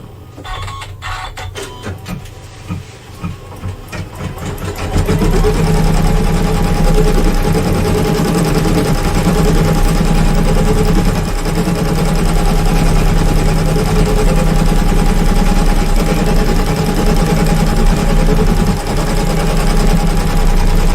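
Sewing machine stitching continuous quilting decoration on clothing fabric, a steady loud mechanical whir and rapid needle chatter running unbroken after a few quiet starting stitches.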